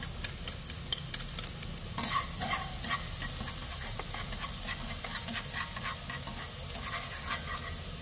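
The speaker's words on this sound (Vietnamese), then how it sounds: "Sau đó mình sẽ cho tỏi vô mình phi cho nó vàng thơm." Garlic sizzles steadily in cooking oil in a pan while being stirred, with occasional scraping clicks over the hiss.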